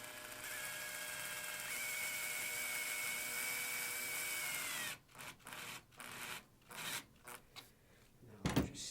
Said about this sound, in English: And now we'll just screw this in.